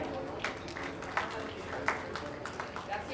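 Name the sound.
applause for children at award function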